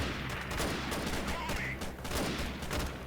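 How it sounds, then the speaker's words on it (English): Dense gunfire rattles without a break in a Freeman Guerrilla Warfare battle, many rifles and machine guns firing at once, close and loud. "Alright, here we go into the hail of gunfire."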